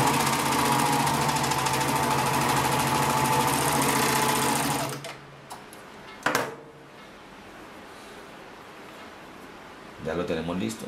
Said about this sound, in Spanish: Estoy cosiendo con hilazas, hilazas de nylon que estiran. También lo puedo hacer con hilo. Estoy cosiendo con 3 hilos.